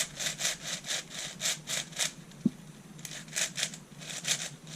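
Rhythmic plastic clicking and rasping as layers of a 6x7x8 brick cuboid twisty puzzle are turned repeatedly, a quick even series of soft strokes close by, with a brief pause midway.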